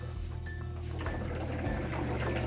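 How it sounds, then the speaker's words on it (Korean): Water sloshes and trickles inside a disassembled washing machine's drum tub with no laundry in it, a steady close liquid wash under a low motor hum. "물소리 난다. 물소리가 나죠?"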